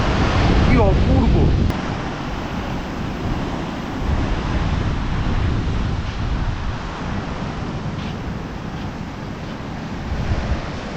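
Sea waves at Yarada beach in Vizag, a broad continuous roar of surf mixed with heavy wind buffeting on the microphone, loudest in the first two seconds, then a steady wash.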